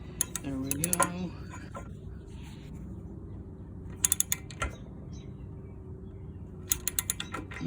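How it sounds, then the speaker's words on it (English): A hand ratchet clicks in quick bursts while working on a John Deere D110 mower, three separate runs of crisp close ratcheting clicks spaced apart over a low background hum. "Flip my ratchet the other way."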